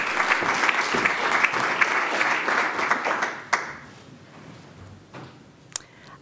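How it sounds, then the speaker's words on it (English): An audience at a NASA scientist's talk claps loudly for about three seconds, then the applause tapers off into a quiet room with a few scattered taps and knocks. "Big round of applause for Kim, please."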